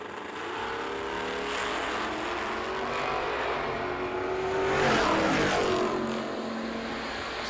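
Camaro drag car at a drag strip, engine noise rising and swelling steadily over several seconds, loud and continuous with a broad roar peaking midway, no talk.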